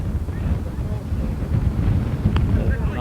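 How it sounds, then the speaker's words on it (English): Wind buffeting a microphone at an outdoor baseball game, a constant low rumble with gusty swells and faint background voices underneath. "Could use just a little less wind"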